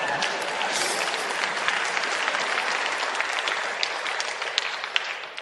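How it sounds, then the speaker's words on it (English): A lecture audience gives loud, sustained applause, dense and even throughout, with scattered sharper claps standing out near the end. "I got a nice bonus applause on that."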